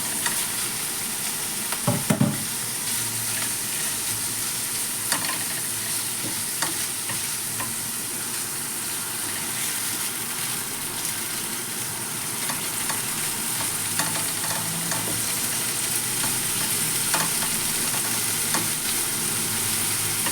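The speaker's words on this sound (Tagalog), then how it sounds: "igisa natin itong minced pork" Minced pork sautéing in a pan makes a steady, close sizzle and frying hiss, with occasional stirring clatter and a few sharper utensil knocks throughout, no voices.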